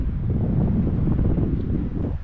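Strong wind on Crete buffets the microphone in a continuous low roar, gusty and close, with no other sounds standing out.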